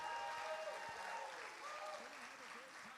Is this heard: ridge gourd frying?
no